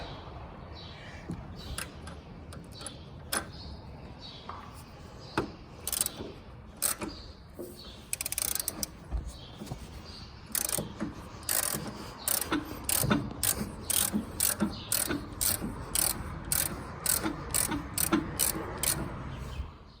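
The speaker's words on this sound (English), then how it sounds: "this was an easy project, just a ratchet" A ratchet wrench tightens a 24 millimeter bolt, first in scattered sharp clicks, then in a fast run of rhythmic ratcheting strokes toward the end, close and crisp.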